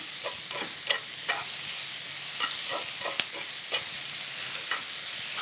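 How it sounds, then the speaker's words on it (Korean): Steady sizzling of mixed vegetables for japchae stir-frying in a hot pan, with occasional clinks and scrapes of a utensil stirring, close and continuous. "그냥 이렇게 모둠으로 합해서 볶아주도록 할게요"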